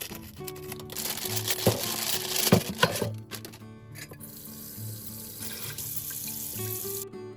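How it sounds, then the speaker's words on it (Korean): Beef short ribs (LA-style galbi) being rinsed under a running kitchen tap, with a steady rush of water into the sink, occasional splashes and clatter as the meat is handled, and no talking. "핏물은 버리고 갈비를 흐르는 물에 깨끗하게 씻어주세요."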